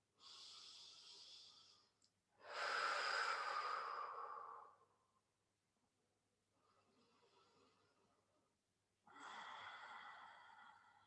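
Slow, deep breaths taken while holding a relaxing fertility yoga pose, heard close up: two long, loud inhales and exhales, then a quieter breath and another strong one, with soft pauses between them.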